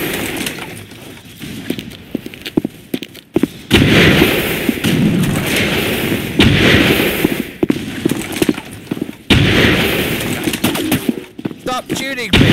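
Rapid automatic gunfire in the Half-Life mod Forget Mesa, loud bursts of rattling shots broken by short gaps, with other game noises and a voice mixed in.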